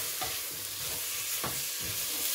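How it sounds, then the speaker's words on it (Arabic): Veal curry sizzling in a pan while being stirred, with a continuous frying hiss broken by three distinct scraping strokes of the spoon. "دونك غادي نرمي اللحم فوالا، ونبقى نخلط هكذا، ونخلي كل شيء يتقلى مع بعض"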